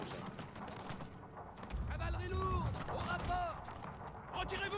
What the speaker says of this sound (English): So now everyone is at fire at will.